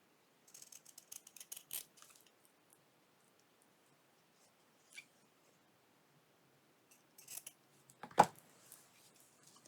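Scissors cutting paper for a feminine journal make faint, quiet snips and rustles in short bursts near the start, then a few more clicks and one louder snip toward the end, with quiet gaps between and no talking.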